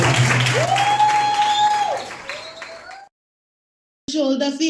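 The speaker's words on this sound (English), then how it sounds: "Give yourself a round of applause for that" Audience applause at a theatre conversation event: a dense burst of clapping, with a sliding whistle-like tone over it, that thins and cuts off after about three seconds. Silence follows, then a short loud burst of another sound.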